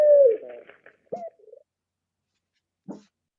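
A pigeon coos in a few short, soft calls, one longer call at the start and then brief pulses separated by silence, heard close and alone.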